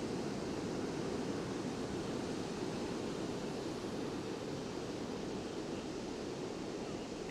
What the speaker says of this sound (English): Those waves are kind of big.